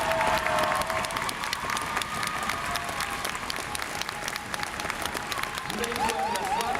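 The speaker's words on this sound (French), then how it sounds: "Allez, vos applaudissements à toutes ces équipes." A crowd at a gymnastics event in Albi applauds the teams with sustained, dense clapping in a large hall and scattered cheers, while a voice speaks over a loudspeaker near the end.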